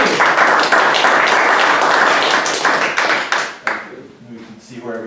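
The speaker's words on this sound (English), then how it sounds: "I want to give a round of applause to 800 North." A room of meeting attendees clapping loudly and steadily for about three and a half seconds, then the applause thins out and fades while voices begin talking over the tail end.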